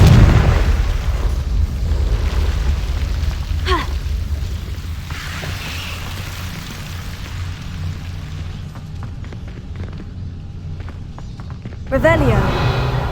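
A Confringo spell from the Hogwarts Legacy video game bursts with a loud, booming explosion at the start, then settles into a low rumbling game ambience before another burst near the end, with brief vocal sounds.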